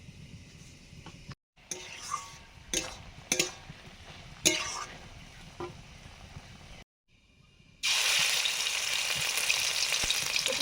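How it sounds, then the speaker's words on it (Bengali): Cauliflower leaf paste with black cumin stir-fried in mustard oil in a kadai, with scattered scraping stirs and clinks at first, then a loud steady sizzle after a brief pause. "এবারে কপি পাতা বাটাটা একটু কড়াতে নেড়ে নেব কালো জিরে দিয়ে"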